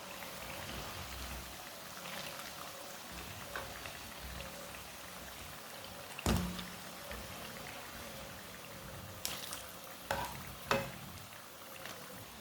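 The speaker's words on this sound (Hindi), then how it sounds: "इसे ना छन्नी में डाल देते हैं, जो एक्स्ट्रा ऑयल है वो निकल जाता है।" Freshly fried potato chips drain in a strainer with a faint, steady crackle of oil, broken by a few sharp clinks and taps.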